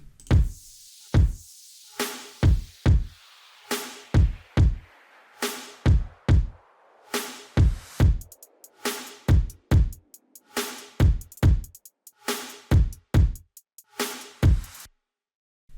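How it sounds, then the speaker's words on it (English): Punchy electronic drums play alone in a steady pattern, with deep booming kicks and crisp snare and hi-hat hits. "And of course some drums."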